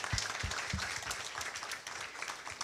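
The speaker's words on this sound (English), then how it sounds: "Can I hear a round of applause if you're happy?" A small audience claps, scattered applause with distinct individual hand claps, fairly close and steady for a few seconds.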